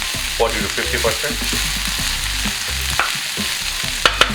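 Kale and mushrooms sizzling and frying in a pan, stirred with scraping and clinking of a utensil, steady frying hiss beneath a brief spoken remark.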